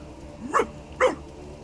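A zombie dog in the fantasy role-playing game Divinity: Original Sin gives two harsh, rasping barks about half a second apart, close and fairly loud over a quiet game background.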